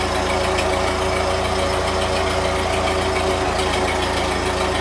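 An old 1941 Ford 9N tractor engine idles loudly and steadily, a constant rough rumble with a faint knocking pulse, close by and uninterrupted.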